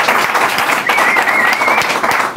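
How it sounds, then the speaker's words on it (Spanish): Dense, steady applause from an audience fills the whole stretch, loud and continuous with no pauses. "Giorgia, un aplauso para la sección de, Giorgia Dentro cabecera."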